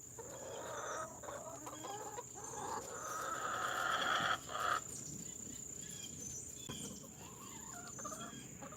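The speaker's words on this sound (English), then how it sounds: "Chickens are wondering why they're getting so much attention." Chickens cluck and murmur close by in a steady flurry, with insects chirring faintly in the background.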